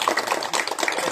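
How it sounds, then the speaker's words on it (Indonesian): A crowd of Linmas community security members in Cikampek, Indonesia, clapping together, with a brief, dense burst of close applause. "Tepuk tangan."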